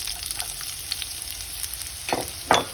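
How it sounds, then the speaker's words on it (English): Onions going into hot oil in a Sri Lankan home kitchen, with curry leaves, tomatoes and fish already in the pan: a steady low sizzle with a few sharp crackling bursts near the end, close up and without talk. "I'm going to add the onions"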